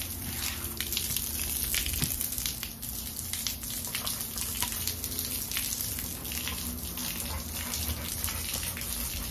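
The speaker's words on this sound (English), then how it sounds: "The water's coming out this water hole is hot." Hot water gushing steadily from an outdoor tap onto concrete, a continuous broad splashing rush heard close with no talking.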